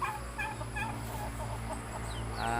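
A turkey calls in the morning with repeated throaty gobbling and clucking bursts, close and clear over a constant low mechanical hum, with a few higher chirps from other birds.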